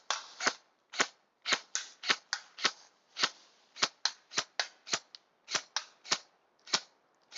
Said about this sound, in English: This is a DMR, designated marksman rifle. They're done down to semi-automatic only.